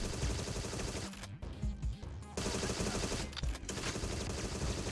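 Rapid submachine-gun fire in the shooter game Agent 64: Spies Never Die, loud close bursts of quick repeating shots with two brief pauses between volleys.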